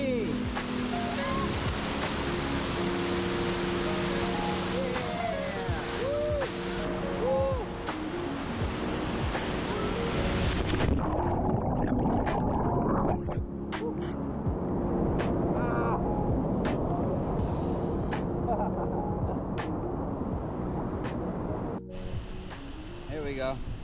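Rushing water at Bolinao Falls makes a steady, loud broadband roar that runs through the whole stretch, with voices talking faintly beneath it.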